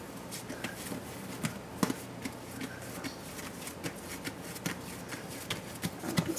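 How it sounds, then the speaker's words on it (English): Vegan white bread dough is punched down and folded by hand, giving soft, quiet slaps and squishy pats that repeat irregularly at close range. "you're going to punch it down."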